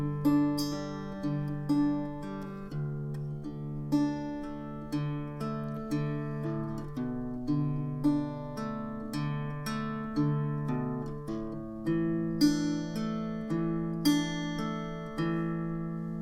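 Fingerpicked acoustic guitar intro of a song, a steady rolling pattern of plucked notes over ringing chords, played close and alone.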